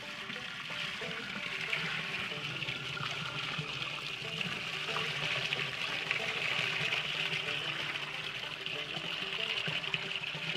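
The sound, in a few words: wine poured through a filter into a wine bladder press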